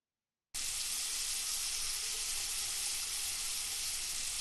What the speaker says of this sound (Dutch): Open de kraan en maak je handen nat.